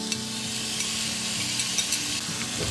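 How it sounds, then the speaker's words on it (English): Ground beef and onion frying in a hot greased pan, a steady dense sizzle with occasional scrape and stir clicks, close and continuous with no talk. "in a hot greased pan, I'm gonna add a pound of ground beef,"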